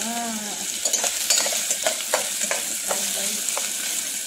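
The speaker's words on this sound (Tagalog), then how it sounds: "Kamatis, nilagay ko na po ang kamatis ko. Nilagay ko na ang manok" Chicken and tomatoes fry in a pan in an outdoor kitchen, a continuous hiss and sizzle punctuated by regular clicks and scrapes of a utensil stirring, close and without talk.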